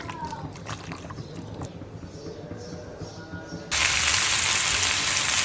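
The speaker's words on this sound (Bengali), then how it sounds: "এভাবে একটু লাল লাল করে আমরা চিকেনগুলোকে ভেজে নেব।" Marinated chicken pieces frying in a pan until reddish: a low sizzle under faint background sound, then a sudden loud, steady broadband hiss of hot oil for the last couple of seconds.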